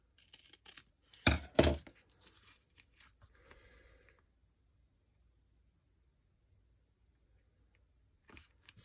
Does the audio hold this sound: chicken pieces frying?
no